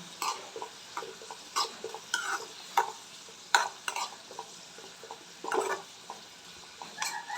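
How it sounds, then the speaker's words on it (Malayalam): Food is stirred in a pan on a home stove, with irregular spoon scrapes and knocks against the metal over a quiet low sizzle. "പിന്നെ ഇത് വെച്ച് ഇനി ഇളക്കാം"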